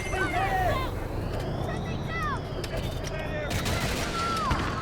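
Rapid bursts of gunfire in the video game Delta Force, dense and continuous with whistling projectile sweeps and engine rumble, loud and close while players shout over it.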